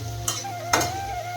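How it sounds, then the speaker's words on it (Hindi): Masala frying and being stirred in a pan, pressed down for golden-brown roasting, with a steady low sizzle and two brief scraping stirs of the spoon against the pan. "अब ये भून ले संगवारी हो अच्छा से"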